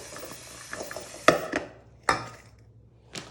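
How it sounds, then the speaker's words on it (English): Potatoes and vegetables tumble and clack against a container while being tossed with olive oil. A few sharp knocks and rattles come close up and fairly quiet, with soft shuffling between them and no talking. "drop all these into this container so we can toss them evenly"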